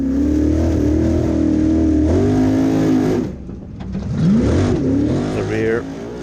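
The Raptor formula offroad car revs hard at an Icelandic Formula Offroad round in Egilsstadir, its engine roaring loud and close with pitch swings and a brief dip, under a commentator's voice.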